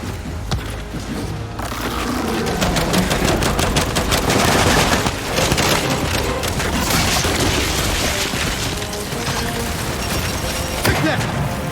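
Sustained gunfire and rattling machine-gun bursts in the Gears 5 video game, loud and continuous with heavy booms mixed in, over a dense battle din.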